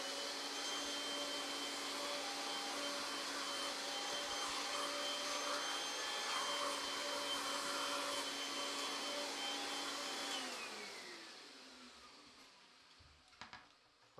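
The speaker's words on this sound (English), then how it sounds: "this is why I always have my vacuum cleaner ready to go" Vacuum cleaner sucking dust out of a PS3 console, a steady high whining motor drone that runs loud for about ten seconds, then winds down and fades, followed by a few faint clicks.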